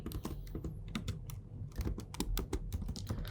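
Rapid, uneven clicks of a computer keyboard as Python code is typed, close and fairly loud with short pauses between bursts, no talking.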